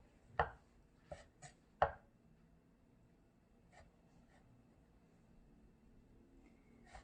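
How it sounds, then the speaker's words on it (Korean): A knife chops dried radish and egg white on a cutting board during Korean cooking-exam knife-skills practice. A few sharp, distinct cuts land close together near the start, followed by a couple of fainter taps over a quiet room. "얘를 이거 마른 무 썰 거고, 나머지는 채 썰 거고"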